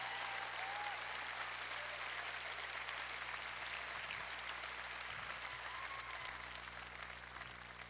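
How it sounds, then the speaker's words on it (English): Audience applause fills a concert hall at a show, a steady wash of clapping that holds evenly throughout without any talking. "We would like to give a very generous round of applause for our faithful and fearless crew"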